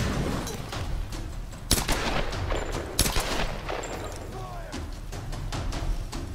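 Gunfire in the Tomb Raider video game: rapid bursts of shots crackle and pop at a moderate distance, with a few sharper cracks standing out from the steady barrage.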